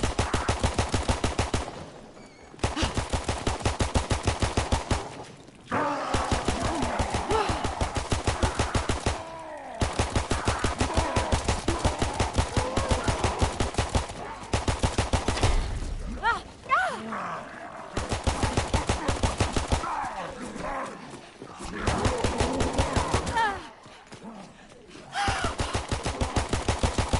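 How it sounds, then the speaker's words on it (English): Pistol and other gunfire in a Call of Duty: WWII Zombies game, dense repeated shots in rapid bursts, loud and close, broken by brief pauses, with grunts and groans mixed in. "Taking him down with a pistol, of course."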